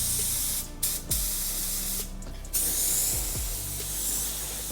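A spray gun hisses in short bursts as thick coating is laid onto the interior of a Fastback car, with clicks and mechanical rattles between passes, close and fairly loud.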